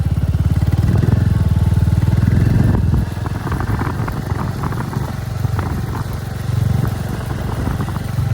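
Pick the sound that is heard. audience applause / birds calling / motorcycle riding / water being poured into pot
motorcycle riding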